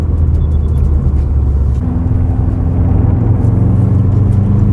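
A blue Subaru rally car drives with a steady, loud engine drone and low rumble up close, the note shifting slightly midway as it pulls along without any talk.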